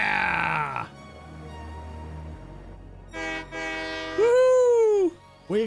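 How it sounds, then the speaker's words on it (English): A train in the video game Satisfactory sounds a loud harmonic horn, then rumbles steadily past before more horn blasts and rising and falling whistle tones near the end. "We got a train line."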